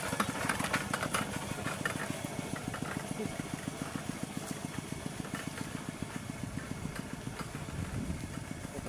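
A motorcycle engine runs steadily throughout, a low, even putter that stays at a constant level in an outdoor rural setting, with faint voices talking in the background.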